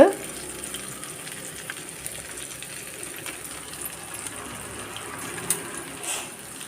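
Paneer pakoda deep frying in oil gives a soft, steady bubbling hiss that has mostly settled, faint and close, with a few light clinks near the end.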